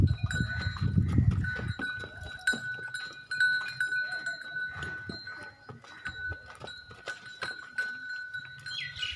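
Buffalo being untied and led away on a Pakistani farm, with a heavy low rumble and shuffling near the start, then scattered knocks, rope and hoof sounds under a steady high background tone.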